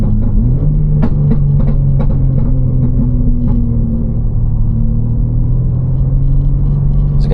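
A BMW M3 engine holds a steady drone at roughly 3,000 to 3,200 RPM, loud and continuous from inside the cabin, with low harmonic bands that hardly change and a few faint clicks and taps over the top.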